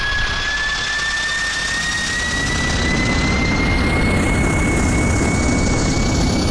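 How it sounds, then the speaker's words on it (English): Loud, steady roar of Qantas 737-800 jet engines on takeoff in Flight Simulator X, a constant broadband rush with a rising high whine, building slightly in intensity with no talk. "here's the wing view for the takeoff"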